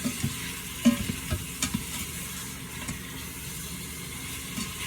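Ground beef sizzles and browns in a pot under a steady close hiss, with occasional clicks and scrapes from stirring throughout.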